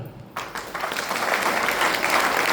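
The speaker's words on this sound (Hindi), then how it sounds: "जिन्होंने किया वो अपने लिए तालियां बजाएं" Classroom of students clapping for themselves at a school, a short quiet pause and then dense applause rising and holding steady at close range.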